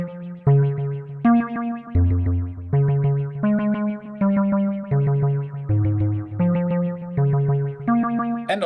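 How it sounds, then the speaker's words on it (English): An Endorphines Ghost synthesizer plays a steady sequence of distorted notes with a delay effect, each note repeating and trailing off, loud and alone with no talking. "Let's add a little bit of delay."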